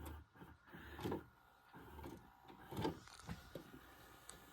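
Mechanical whirring and clunking from a Toshiba Funai SD-V296 VCR's internal mechanism, with quiet bursts of motor movement and a couple of louder clattering shifts against a low background.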